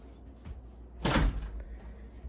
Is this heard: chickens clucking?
no